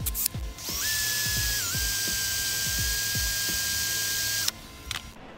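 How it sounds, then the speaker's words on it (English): A power drill with a 13/64 bit whines at a steady high pitch for several seconds while the bit grinds through material with rhythmic clunks, then stops abruptly. "So now let's get a real drill bit and see what the difference is."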